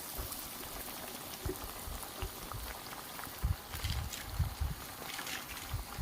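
Village-style jaggery ariselu sputter in hot oil as they fry, a steady dense crackle of bubbling with louder popping bursts toward the end, close and alone.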